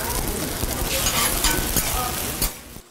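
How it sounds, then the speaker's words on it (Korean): Egg-battered jeon pancakes sizzle in oil on a hot griddle at a traditional market, a loud, steady crackling hiss with scattered pops that stops abruptly near the end. "노란 계란물을 묻힌 재료를 철판 위에 올려 앞뒤로 뒤집습니다. 기름이 지글지글 끓다 보면"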